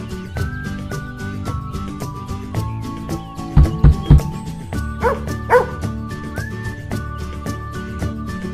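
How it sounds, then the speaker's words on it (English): A dog barks a few quick times, a close cluster of short sharp barks followed by a couple of higher yips, all over steady upbeat children's background music. "Dog."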